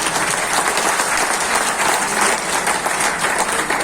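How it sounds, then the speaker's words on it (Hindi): Steady, dense applause from a large audience at a Congress party workers' convention, loud and continuous throughout with no pauses. "एक बार ताली बजा लो सब।"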